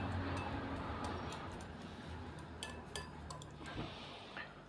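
Spoon clinking against a bowl while yogurt and spices are stirred together for a fried chicken marinade, soft scattered taps and scrapes over a steady background hiss, faint and close.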